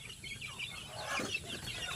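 Soft, low clucking from chickens and ducks nearby on a farm, faint and continuous over a muffled background with no talking.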